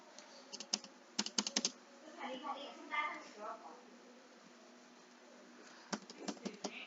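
Typing on a computer keyboard while entering mail account settings: short bursts of quick clicking keystrokes, with a pause in the middle and another run at the end, under a quiet voice.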